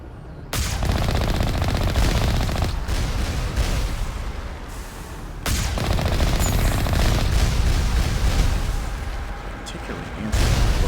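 Bursts of turret gunfire rattle in the Mass Effect video game, on the icy world of Noveria: loud sustained volleys in several long stretches with brief gaps between them, close and dense.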